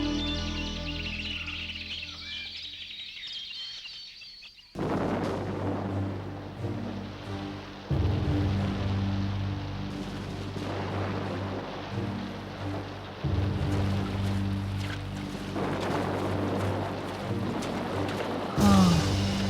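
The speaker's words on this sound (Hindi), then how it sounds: "बारिश बहुत तेज हो रही है" Heavy cartoon rainstorm with a steady dense wash of rain and low rumbling thunder swells, the downpour continuous throughout with a few louder surges and a bright crack near the end.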